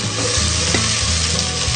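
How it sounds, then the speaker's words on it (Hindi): Tomatoes frying with garlic and ginger paste for a turnip curry give a loud, continuous close sizzle with a dense crackling hiss that stays steady throughout, with no voice over it. "टमाटर गलने तक हम इसको भूनेंगे।"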